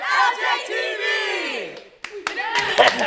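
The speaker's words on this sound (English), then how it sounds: "a Loggers Run TV tradition, a pre-show cheer" A group of people shouts a pre-show cheer together for a school TV morning announcements broadcast, a loud sustained unison yell that rises and falls, followed by a brief pause and then excited whoops and clapping.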